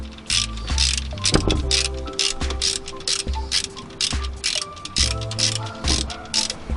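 A ratchet tightens bolts while an alternator is reinstalled on a Sprinter van, giving rapid, close pawl clicking in bursts with brief pauses between strokes.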